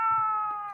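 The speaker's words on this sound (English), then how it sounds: "That's the cat. She's very meowy." Dusty, a female house cat, gives a single clear, drawn-out meow from close by, steady in pitch and fading slightly at the end.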